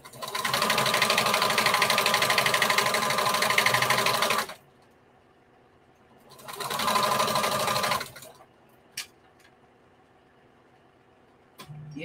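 A sewing machine stitches a bandana skirt in two bursts, a long steady whirring run followed by a shorter one after a pause, then quiet with a couple of small clicks.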